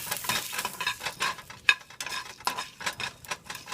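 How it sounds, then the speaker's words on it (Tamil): Coriander seeds and dried red chilies dry-roasting in a pan, heard as rapid rhythmic stirring and rattling scrapes with a light sizzle, close and steady throughout. "கொத்தமல்லி வரமிளகாவை போட்டு வறுத்து வச்சுக்கோங்க கொத்தமல்லியும் மிளகாய் மட்டும் வறுத்துக்கோங்க"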